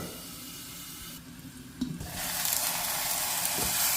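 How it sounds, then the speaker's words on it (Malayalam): Cumin seeds go into hot oil where mustard seeds and fenugreek are already spluttering in a clay pot. A steady sizzle swells into a louder, fuller hiss about halfway through and keeps going, with no voices. "നമ്മൾ കടുവും ഉലുവയൊക്കെ പൊട്ടിക്കഴിഞ്ഞാൽ അതിലോട്ട് കുറച്ച് ജീരകവും കൂടെ ചേർത്ത് കൊടുക്കണം കേട്ടോ"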